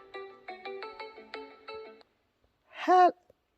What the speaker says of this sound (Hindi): कॉल आ गया यार, किसका आ गया?